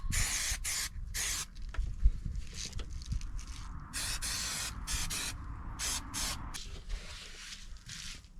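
Spray adhesive hissing from an aerosol can during a Transit Custom camper van build, a series of short, sharp bursts and longer sprays separated by pauses, fairly close with no talk.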